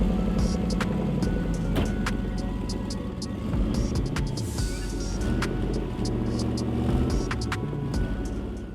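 A cheap V8 muscle car built for a race day rumbles loud and steady nearby, its deep engine drone rising and falling slightly as it is revved.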